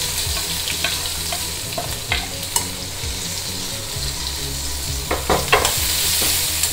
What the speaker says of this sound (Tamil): வெங்காயம் கொஞ்சம் வதங்கிடுத்து